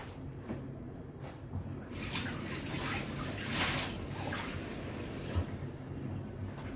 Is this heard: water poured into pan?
yes